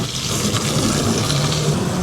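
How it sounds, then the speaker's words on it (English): Fresh water gushes steadily as a tank is filled at a harbor hookup, a loud, close, continuous rushing flow with no break. "filling up water at a harbor because you live in a bus"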